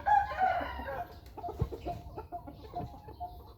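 A fighting rooster lets out a loud crow up front, followed by a series of short, choppy clucks and calls in a quiet outdoor setting.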